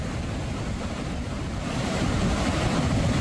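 Kondhwal waterfall at Bhimashankar pours in full flow, a dense, continuous roar that swells slightly toward the end, with no voices.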